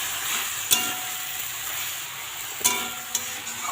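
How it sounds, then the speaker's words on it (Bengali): Pui shak (Malabar spinach) chorchori with potatoes is stirred in a frying pan. It makes a soft, continuous sizzle, with a few sharp scrapes of the spoon against the pan. No one speaks. "তো আমি এখন এটা নাড়িয়ে একটু ঢাকা দিয়ে দেবো।"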